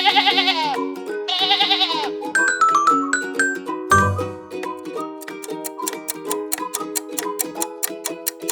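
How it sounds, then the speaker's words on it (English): Sheep bleat twice near the start, loud wavering cries, followed by bright plucked musical notes and a steady ticking rhythm. "Sheep."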